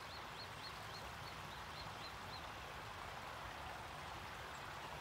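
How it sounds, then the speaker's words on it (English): Water trickles and splashes steadily in a garden pond, a soft continuous wash with a faint run of chirping birdsong early on, quiet and unbroken by talk. "Listen to the water of my pond."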